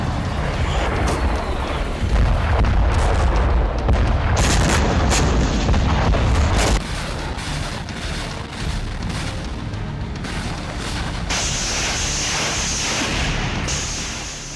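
Artillery shelling and explosions in a war zone in Ukraine, with heavy booming blasts and rumbling bursts one after another, loud and dense throughout.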